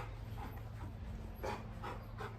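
A dog panting after a training session, with soft rhythmic breaths heard over a steady low background hum, fairly close.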